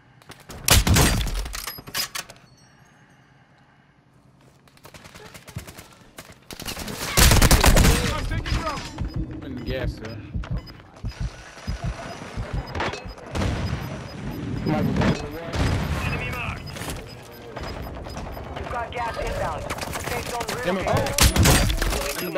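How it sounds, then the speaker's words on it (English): Gunfire rattles through a Call of Duty Warzone match in loud bursts and sustained volleys, with quieter gaps between them, while players talk over the shooting. "Getting shot from a different angle, dude."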